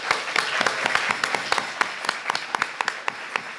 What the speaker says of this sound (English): Let's have an applause.